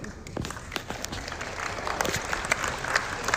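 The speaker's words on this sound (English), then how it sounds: "did they just clap like unironically" An audience breaks into dense, sustained applause, many hands clapping steadily for the whole stretch at fairly close range, with faint crowd murmur mixed in.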